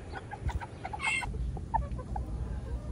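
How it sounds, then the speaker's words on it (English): Tiny Serama bantam roosters cluck and give short calls in a backyard flock, a steady mix of small bird voices at moderate distance over low outdoor background noise. "These are some of my handsome Serama roosters, strutting their stuff."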